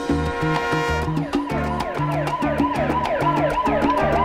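A siren sound effect rings out on a Chilean radio sports show, playing loud and continuous as music with a repeating rhythmic pattern, with no talk over it.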